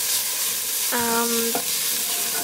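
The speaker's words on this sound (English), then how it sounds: "I'm going to put in the ginger. I'm going to stir it around and let that cook for just a little bit" Ginger is stirred and fried in a pan for a vegan meal, making a steady, soft sizzle. Part way through, a brief tonal squeak cuts in, and no one speaks.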